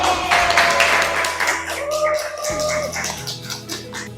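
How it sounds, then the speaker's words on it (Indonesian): Clapping from students in a classroom at the close of a lesson, a loud burst of applause mixed with voices and chatter, easing off toward the end. "Tepuk tangan buat"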